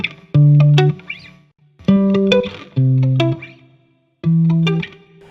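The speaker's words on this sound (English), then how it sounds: "That's really all that goes into making a really clean pop guitar tone." Four clean electric guitar chords ring out one after another, each held briefly and then cut off, with a bright, slightly chorused sheen and short silences between them.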